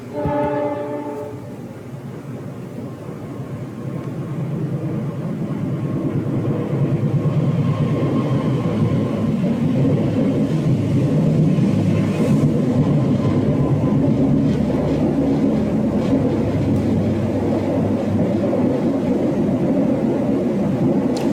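A train rolls past with a low continuous rumble that swells and holds, loud and near, preceded by a brief horn blast at the start.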